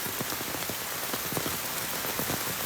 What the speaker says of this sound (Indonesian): Ini terlalu deras, hujannya terlalu lebat